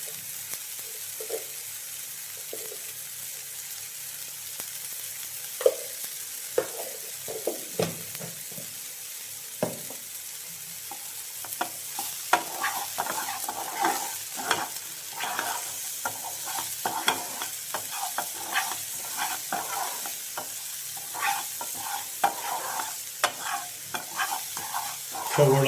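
Chopped onions sizzle and fry in hot oil in a pan while a spoon stirs them in steady, irregular scrapes and clacks, close and fairly quiet, growing busier toward the end.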